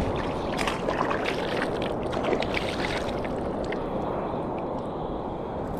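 Sea waves wash and churn around a small fishing boat out on rough water ahead of an approaching storm, a steady broadband rush with faint splashes, close and continuous throughout with no talk.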